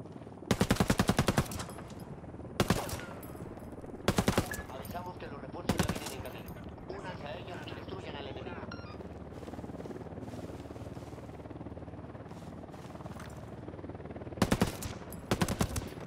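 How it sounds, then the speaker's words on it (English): Submachine gun fire in a bomb-defusal shooter game, heard as short sharp bursts of rapid shots repeating every second or two over a steady low background rumble, with voices talking between bursts. "Spotted one with submachine guns."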